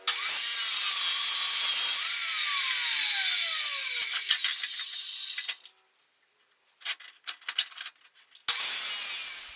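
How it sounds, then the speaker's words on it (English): A saw cuts small knife fittings out of a piece of metal with a loud, close, high scraping rasp. Strokes run steadily for several seconds, break off into a short pause and a few scattered knocks, then the cutting resumes. "it's time to cut out the fittings from the piece of metal"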